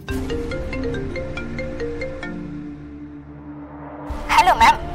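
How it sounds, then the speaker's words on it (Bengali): A mobile phone ringtone rings out as a repeating melodic phrase that fades, followed by a couple of sharper, louder bursts near the end. "সাইকিয়াট্রিস্টের ফোন মধুর কাছে।"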